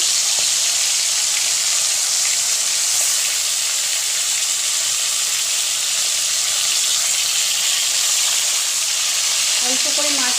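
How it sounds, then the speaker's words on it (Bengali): Catla fish pieces sizzle steadily as they fry in well-heated oil in a kadai, a continuous close hissing crackle that holds for the whole stretch with no talk over it. "একে একে মাছগুলো ছেড়ে দিচ্ছি"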